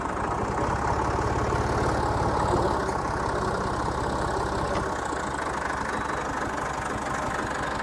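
A tractor engine idles close by on a country outing in rain, a steady low diesel throb with rhythmic knocking that shifts slightly in pitch partway through, and no one speaks over it.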